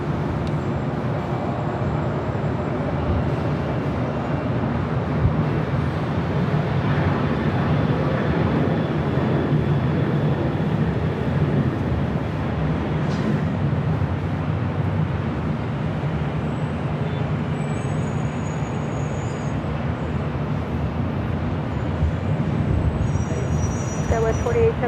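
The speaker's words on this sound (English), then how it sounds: "747-400 freighter flight 8350. Lining up will be a south side takeoff." A Boeing 747-400 freighter lines up for a south-side takeoff at LAX, its jet engines giving a steady, broad low roar that holds throughout, with faint radio chatter layered over the continuous rumble.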